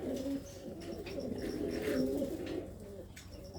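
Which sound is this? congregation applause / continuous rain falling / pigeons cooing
pigeons cooing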